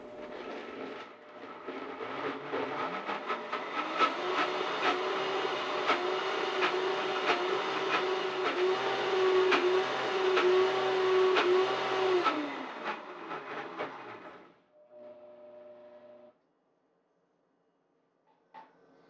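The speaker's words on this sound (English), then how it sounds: "we're blending on the highest speed just to mix in the added ingredients" A Vitamix blender ramps up to its highest speed while mixing nut butter, holding a loud, steady whirring whine for about ten seconds before spinning down and falling silent, followed by a few faint clicks.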